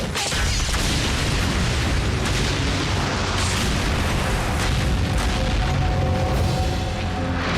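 Cartoon explosion blowing up a gas station: a loud, sustained roaring blast with rumbling debris that fills the whole stretch without letting up.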